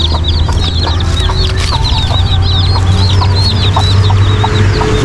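Backyard chickens clucking close by, repeated short chirpy clucks over a steady low hum, with no talking.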